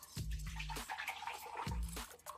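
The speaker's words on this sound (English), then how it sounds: "let me add my water in first" Water poured into a blender jar as the base for celery juice, a close splashing gush that swells in two bursts with gurgling in between.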